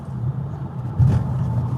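Polestar 2 electric car accelerating hard on a New York City street, a loud steady low road rumble and whoosh from inside the cabin that swells briefly near the end.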